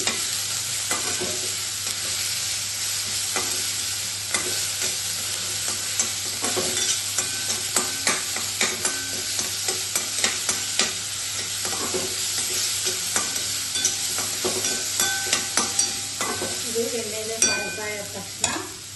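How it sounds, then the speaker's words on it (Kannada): Green chili paste sizzling and frying in hot oil for a horse gram sprout stir-fry, with steady broadband crackle, intermittent spoon scraping and stirring, and sharper pops toward the end, close and alone with no voices. "ಹಸಿಮೆಣಸಿಕಾಯಿ ಪೇಸ್ಟು ರುಬ್ಕೊಂಡಿರೋದು ಇದು ಎಣ್ಣೆಲೇ ಫ್ರೈ ಆಗಬೇಕು"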